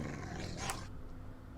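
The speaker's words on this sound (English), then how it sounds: "We also have some dogs, it sounds like." Dogs growl in the modded Minecraft pack SevTech, a low, rumbling snarl under steady background game noise that stays faint throughout.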